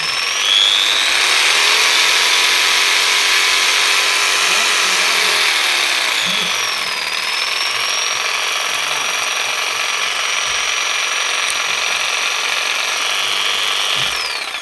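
A Makita power tool, factory condition, runs continuously in its operating mode with a steady high-pitched motor whine and slight pitch shifts, close and loud with no talk.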